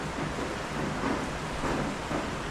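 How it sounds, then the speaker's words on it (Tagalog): Rain falling outside a finished house with a garage, a continuous broad hiss with gentle swells in intensity, moderately loud and steady, no talking. "Kaya medyo umuulan lang."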